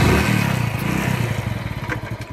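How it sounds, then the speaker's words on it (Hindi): A motorcycle engine runs steadily and close, with a rhythmic low chugging that eases slightly over a couple of seconds and carries no voices. "मैं बाइक चलता हूँ"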